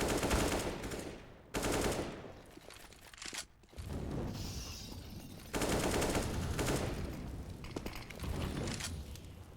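Rapid gunfire crackles through an esports shooter match, with bursts of shots separated by brief lulls, loud and close, layered over the game's ambient noise.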